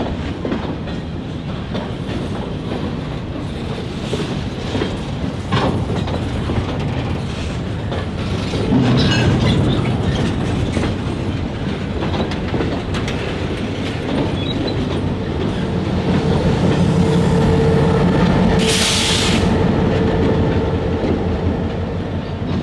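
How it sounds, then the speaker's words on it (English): Railway freight cars slowly shoved down a mill lead track on a short line, a continuous rumble of rolling wheels with clicking joints and a brief high wheel squeal, loud and close. "the engineer slowly shoved the cars down the mill's lead track"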